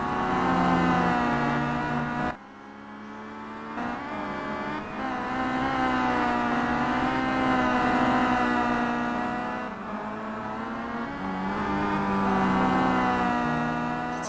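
Simulated touring race cars in a WTCC championship race at Laguna Seca, in the Simraceway game, roar with sustained high-revving engines. Pitch climbs and drops through gear shifts and corners, with one or two sharp cuts in the engine note.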